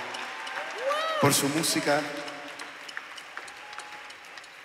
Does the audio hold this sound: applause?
yes